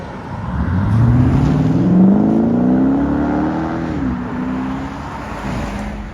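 A 2021 Dodge Durango R/T with a 5.7L HEMI V8 and bottle resonators pulls away beside traffic, its deep engine note rising loud and close as it accelerates, then settling into a steady drone.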